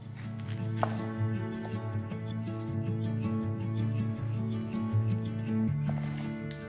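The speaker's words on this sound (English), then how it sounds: "Half a red onion, finely chopped." A knife chops half a red onion finely on a board for masala noodles, the steady close taps sitting under a continuous bed of soft background music.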